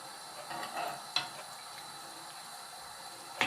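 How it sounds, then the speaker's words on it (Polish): A one-pot summer family dinner bubbling in a pot, giving a steady sizzling, simmering hiss with occasional light clinks, heard alone at close range. "tu już się gotuje"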